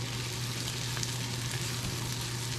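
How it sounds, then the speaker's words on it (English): Onions sautéing for burgers in a cast iron skillet, a steady close sizzle with a faint crackle running the whole way, and no voices over it. "I've been sauteing up some onions for our burgers"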